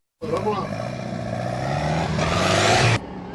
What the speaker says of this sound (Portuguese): Nosso super chevette está aqui com o motor Opala 400 cilindros.